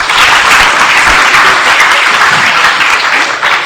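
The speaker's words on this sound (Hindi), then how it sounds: "तालियां बजाइए इसकी।" Audience applause for a girl at a pigeon-flying (Bait Bazi) results and certificate ceremony in Aurangabad, India: steady, dense clapping from a crowd, loud and continuous for several seconds before briefly dipping near the end.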